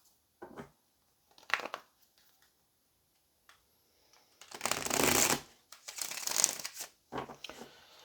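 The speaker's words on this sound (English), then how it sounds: "Let's go ahead and pull some tarot here" Tarot cards being shuffled by hand: short riffling bursts at first, then two longer, louder shuffles close by, with a few quieter flicks at the end and no talking.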